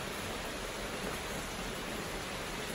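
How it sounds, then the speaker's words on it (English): Rain falls on a rainy afternoon in Bali as a loud, unbroken wash of hiss close by, with no voices. "It's raining, so I think I have to talk a little bit louder."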